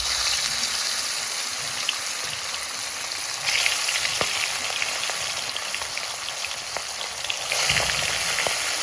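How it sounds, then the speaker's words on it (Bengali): Small puti fish fry in hot oil in a pan for a papaya and potato fish curry, giving a steady close sizzle and crackle with occasional pops and swells, with no talking. "আমার তেল গরম হয়ে গেছে মাছ কটা ভেজে নিচ্ছি আগে"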